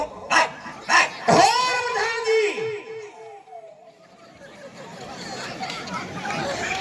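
A man imitates a dog, giving a few sharp barks followed by a long run of whining, whimpering yelps that trail off as other people chatter in the background.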